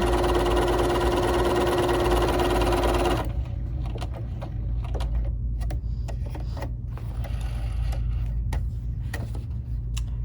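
A BERNINA 3 Series sewing machine runs decorative stitches, first with a steady loud motor hum, then a rapid, even patter of needle strokes as it sews on alone.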